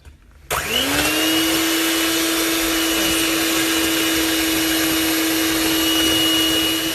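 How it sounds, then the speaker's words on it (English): Brownie batter of sugar and vanilla essence being whisked, a loud, steady motorized whine that starts suddenly and runs unbroken, with nothing else audible. "Now I'm gonna be whisking this for about 5 minutes."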